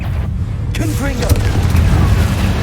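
A Confringo blasting spell goes off in Hogwarts Legacy, a loud booming burst that rolls into a sustained low rumble. A voice briefly calls out at the start.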